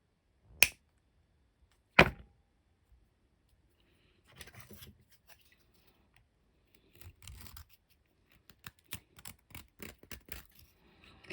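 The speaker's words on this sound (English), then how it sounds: "I've just knocked it back with the scissors, snippers, and then a nail file." Two sharp snips from snippers ring out alone on an overfilled open-back bezel, followed after a pause by bursts of quick scraping strokes from a nail file, some short and rapid, fairly close.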